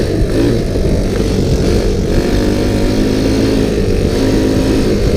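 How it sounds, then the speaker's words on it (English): An ATV engine runs continuously close by, its carburetor running too rich so the exhaust pops and crackles over a steady rough drone throughout. "That popping means there's too much gas carburetors"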